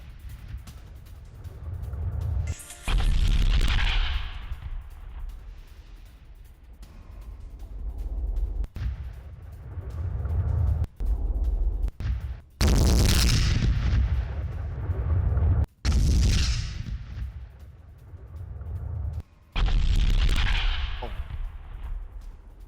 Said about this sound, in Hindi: ये देखिए, बड़ा हमला किया गया है खेरसौन में।